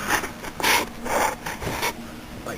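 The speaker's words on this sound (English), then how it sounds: "slide our brake line wrench onto the bolt portion. Now we're going to loosen the" A brake line wrench works a brake bleeder bolt loose on a 2005 Mercury Montego AWD, giving a few close, gritty scraping and creaking strains of metal turning.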